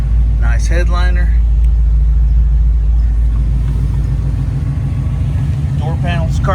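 A 1965 El Camino with a 350 V8 and dual exhaust idles in a steady, deep rumble that stays loud and close throughout, while someone talks over it at the start and end.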